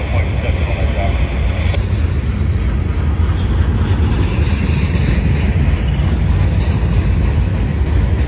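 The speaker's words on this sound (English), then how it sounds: "No, it's not a solid auto rack train, it's a manifest." A northbound Union Pacific manifest freight train rolls past on the Indiana Harbor Belt at La Grange, Illinois, a steady, loud low rumble with wind-like noise lasting throughout, with no talk over it.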